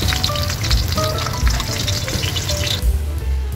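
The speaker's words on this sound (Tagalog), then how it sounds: "Pagkatapos natin guys magprito ng ating tilapia" Tilapia frying in hot oil in a home kitchen, a steady close crackling sizzle with dense spattering pops that briefly surges and settles, heard alone without talk.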